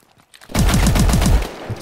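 Rapid automatic machine gun fire from Call of Duty: Advanced Warfare, a loud, steady burst of closely spaced shots lasting about a second after a brief quiet lead-in, with no talking.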